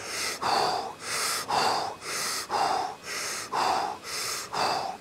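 Rapid, forceful breaths come close to the mic in an even rhythm during a breathing exercise, about ten loud sharp inhales and exhales over five seconds with brief gaps between them, and no talking.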